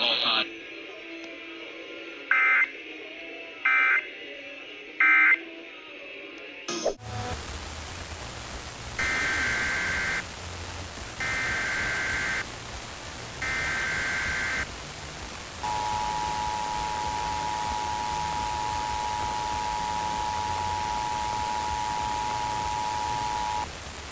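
A monthly Emergency Alert System test on the radio: short repeated buzzy data bursts, then a static-filled stretch with three more bursts, ending in a long, steady, loud alert tone that holds over the hiss.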